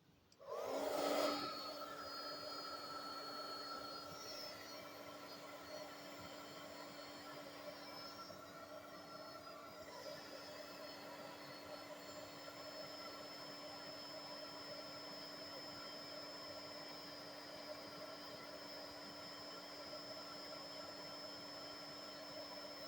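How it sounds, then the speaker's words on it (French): An embossing heat gun switches on with a sharp onset and blows hot air in a loud, steady whine and rush that holds unchanged, alone and close. "Donc maintenant je vais embosser"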